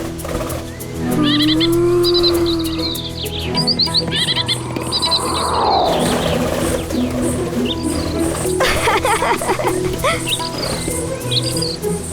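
Birds sing in a lush outdoor scene of a Hindu mythological drama, with repeated bright chirps and trills over a constant insect-like drone and layered background ambience, fairly close and clear.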